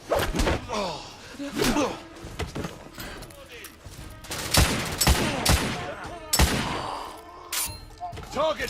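Covering gunfire rattles in The Order: 1886 video game, with sharp bursts of shots and heavy impacts coming in rapid, uneven volleys while voices shout over the fighting.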